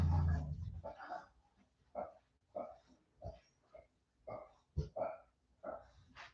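Dogs in a kennel give faint, scattered whimpers and grunting yelps in short bursts, several separate outbursts spaced through an otherwise quiet stretch.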